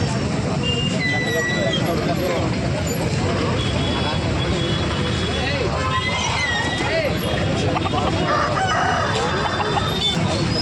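Roosters crowing repeatedly at a busy Sunday chicken market in Rajahmundry, loud overlapping crows and clucks over a dense crowd din with people talking throughout.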